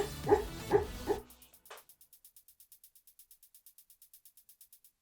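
A dog barks twice, close and loud, then falls quiet while a faint regular ticking pulse continues in the background.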